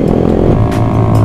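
A motorcycle exhaust revs loud and close, a dense rumbling roar that holds steady with slight rises through the whole moment, during a Sunday-morning group ride for Indonesian Independence Day.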